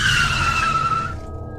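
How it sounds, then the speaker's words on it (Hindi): A car's tyres squeal in a loud, sustained screech as the vehicle slows and breaks down, the harsh tone thinning and cutting off near the end. "गाड़ी ने जवाब दे दिया और गाड़ी धीमे होते हुए"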